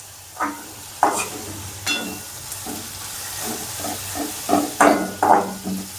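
Fenugreek greens (methi bhaji) roast in a pan while a ladle presses and stirs them, giving a low sizzle broken by repeated scraping clanks at an irregular rhythm, close and clear.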